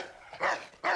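A dog in the video game Assassin's Creed 3 gives two sharp, close barks in quick succession, with nothing else heard.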